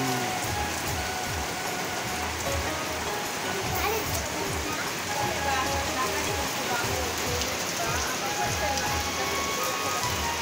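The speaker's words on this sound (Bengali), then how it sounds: "বাহিরে দেখেন কত বৃষ্টি হইতেছে" Steady heavy rain pours outside a village house in the countryside, a dense continuous hiss of drops hitting surfaces with no pause.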